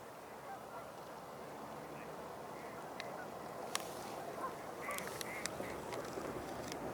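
Ruddy Ducks and Gadwalls call at a wildlife refuge, faint scattered quacks over a steady wash of background noise, sparse short notes becoming more frequent toward the end.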